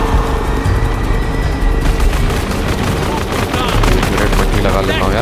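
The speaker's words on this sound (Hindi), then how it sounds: "हो रही गोलियां।" Rapid gunfire in the video game Tomb Raider, loud and continuous bursts of automatic shots with booms over a dense battle din, lasting throughout.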